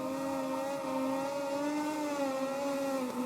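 A Moto2 race bike engine in MotoGP 20 drones steadily at high revs through a race start, a continuous loud whine with a slight pitch dip near the end, and no voice over it.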